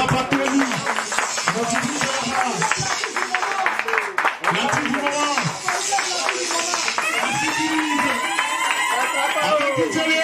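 An audience claps and cheers for a DJ, a lively spread of applause running through the whole stretch underneath someone talking loudly over it.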